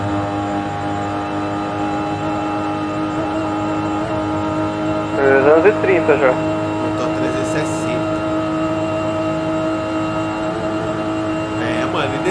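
Forza Horizon 5 drag race between a 2020 Supra and a 2020 Nissan GT-R, single-turbo car: a steady droning engine hum runs throughout, rising briefly with a revving surge midway, as people talk in Portuguese over it.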